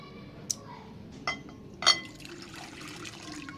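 Cold water is poured into a glass at close range: a few sharp clinks of glass, then a soft, uneven trickle of liquid. No one speaks.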